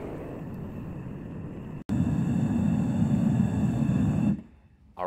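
A propane-fired furnace melting aluminum ingots roars steadily, drops out for an instant, then returns louder before cutting off abruptly near the end, leaving quiet.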